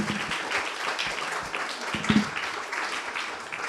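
An audience at a school oratory contest applauds, a dense wash of many hands clapping at moderate loudness that carries on steadily, with faint talk mixed in.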